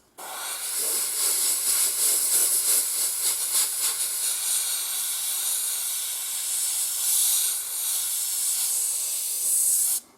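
An airbrush sprays acrylic paint onto the metal parts of a Lenz O-scale frieze-covered wagon model, giving a steady, close, high hiss for about ten seconds that starts and stops abruptly.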